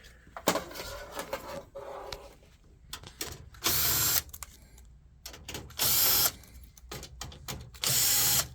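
Screws are backed out of the plastic decorative cover on a Ricoh IM C2500 printer with a power driver, in several short whirring bursts separated by pauses and small clicks and handling noises.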